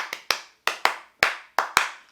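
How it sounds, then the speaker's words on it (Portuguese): Two musicians clap out a twelve-pulse rhythmic pattern with bare hands in Steve Reich's Clapping Music of 1972, heard as crisp, close, dry claps in an irregular grouped rhythm with silence between them. "Clapping Music, de 1972, onde a mesma sequência rítmica com 12 pulsos, feita com palmas por 2 músicos"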